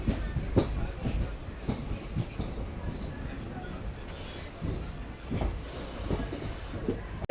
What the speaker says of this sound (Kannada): ಮಲಬಾರ್ ಎಕ್ಸ್ಪ್ರೆಸ್ ನೋಡ್ರಿ.